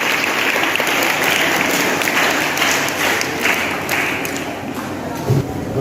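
Children give a loud, sustained round of applause welcoming the school principal to the stage at a National Sports Day celebration, steady clapping throughout that eases slightly near the end.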